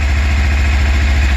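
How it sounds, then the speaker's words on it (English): A Lifan KPR 200 motorcycle engine idles close by, a steady, loud, evenly pulsing low thrum with no other sounds. "This one will take a second to warm up and then idle down"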